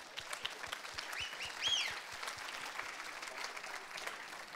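An awards ceremony crowd claps steadily to welcome a guest on stage, an even, moderately loud patter of many hands with a brief bright whistle partway through.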